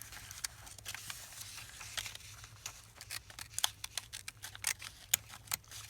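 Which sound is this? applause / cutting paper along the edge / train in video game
cutting paper along the edge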